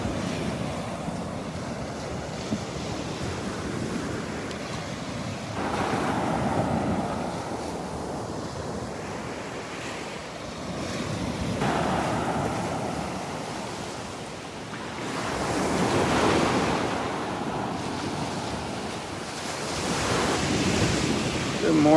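Ocean waves roll in and break on a sandbar at Vanderbilt Beach in the early morning, a continuous broad surf roar that swells and recedes in slow surges, with wind buffeting the microphone.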